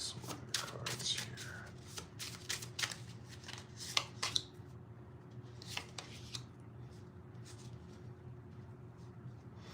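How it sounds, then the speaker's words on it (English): Tarot cards being shuffled and pulled, quick crisp riffling bursts in the first half followed by softer scattered flicks and slides, close and fairly quiet over a low steady hum. "let's pull some other cards here"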